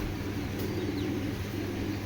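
Tournament-line Giribaz pigeons of Dhaka origin coo softly in a loft, low throaty calls over a steady hum of background noise.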